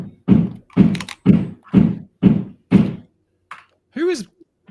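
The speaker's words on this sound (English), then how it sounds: "Who is banging?" Six evenly spaced heavy thuds of nearby construction work pound in a steady rhythm, followed by a brief pause, a lighter knock and a squeaky tonal sound.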